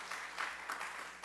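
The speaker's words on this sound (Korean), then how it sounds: "다시 한번 환영하는 박수를 한번 다 드리시죠" A church congregation claps in welcome during a Sunday worship service, a short, soft patter of steady applause that stays fairly distant and even throughout.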